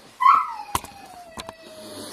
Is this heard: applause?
no